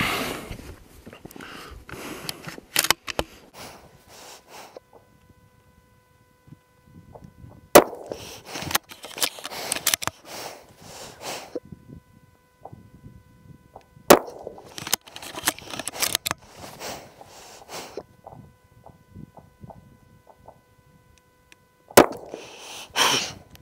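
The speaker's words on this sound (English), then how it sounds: "I'm going to go ahead and take my shots." Rifle shots at a range while sighting in a scope, four sharp, loud cracks spaced several seconds apart, each followed by a short ringing echo, with quiet handling sounds in between.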